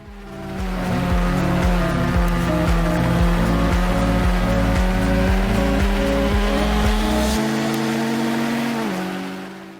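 Loud video game racing engines drone with layered rising and falling tones, a pulsing rhythmic engine note, fading near the end.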